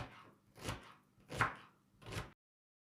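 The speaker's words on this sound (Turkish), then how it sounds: "şöyle ince ince doğrayalım." Four steady knife chops on a cutting board as onions are finely chopped, close and evenly spaced, then silence.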